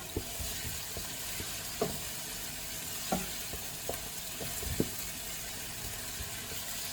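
Eggplants sizzle and stew in a pan with spices, sugar and salt, a steady close frying hiss broken by small pops and occasional stirring clicks.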